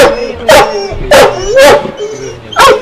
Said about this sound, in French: le langage du chien est un aboiement qui est même assez grave, mais qui est aigu parce qu'il veut sortir nous faire un câlin